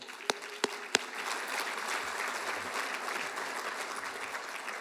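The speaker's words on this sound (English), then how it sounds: "So applaud for Gretchen." Applause for the speaker's spouse at an award ceremony in a chamber, a few sharp early claps swelling into steady, moderately distant clapping from the audience.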